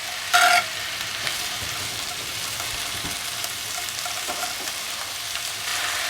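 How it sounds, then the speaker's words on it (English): Onions and peppers frying in a skillet for a cowboy rice casserole give off a steady, close sizzle with a loud hiss burst at the start and light stirring clicks throughout. "Now we're going to add the onions and peppers. We're going to cook until they start to brown."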